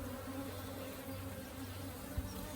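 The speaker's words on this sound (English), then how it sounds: "There's loads of nurse bees underneath." Honey bees, many of them nurse bees, hum on a comb frame in a hive. The buzz is a steady, dense, close drone with a low, even pitch, and no talk.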